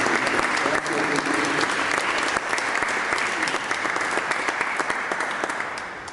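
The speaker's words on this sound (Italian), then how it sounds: "con un altro bel applauso" Steady, dense applause from a concert audience at a final concert of sacred music, filling the whole stretch at an even, loud level and tapering slightly at the end.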